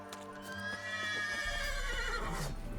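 The horse Roach in The Witcher 3 gives a loud, drawn-out whinny that rises and then trails off, with clip-clopping hooves joining beneath it and continuing to the end.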